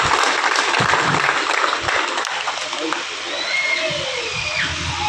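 A crowd at an outdoor public meeting in a residential colony claps for a speaker named Dr. Naresh Kumar. The clapping is strongest early and thins after a few seconds, with background murmur and faint tonal sounds later.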